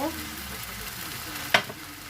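Ground meat and mixed vegetables sizzle steadily as they are stir-fried in a pan with sugar and sauce, with a brief scrape of the utensil near the end, close and continuous.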